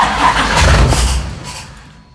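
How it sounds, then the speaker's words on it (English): Car engine with a newly installed FiTech fuel injection ECU cranking and catching, a loud close rumble that settles and fades over about two seconds. "I'm gonna key back on. Wait for that squirt. It's fired up."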